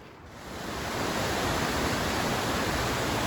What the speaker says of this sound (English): yet another spectacular waterfall. This one's really steep.